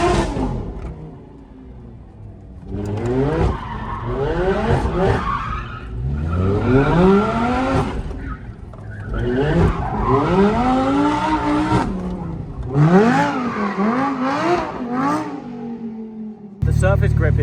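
A rear-wheel-drive car rips around with tires skidding and squealing in repeated rising and falling sweeps as the engine revs hard, loud and close, with a voice talking over parts of it.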